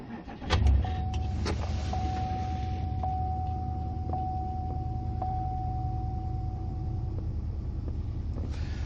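A Pontiac Grand Prix GXP engine cold-starts with a short cranking burst, then settles into a loud, close, rough idle with a steady rumble and faint repeating ticks, no voices.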